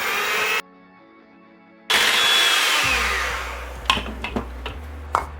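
An electric hand mixer whirs loudly through waffle batter made with baking powder and vanilla. It cuts out briefly, starts again, and then runs more steadily while a few clatters and knocks sound close by.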